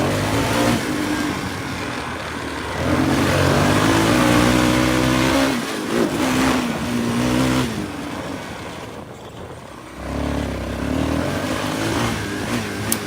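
Yamaha Blaster quad's engine revving hard on a motocross track, loud and continuous with rising and falling throttle swells and brief dips between bursts, no talk over it.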